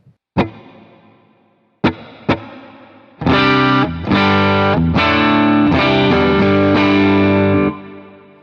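Electric guitar played through a Boss RV-5 reverb pedal preset: a few sharp plucked notes with decaying tails, then loud sustained chords ringing with heavy reverb and distortion for several seconds, no speech.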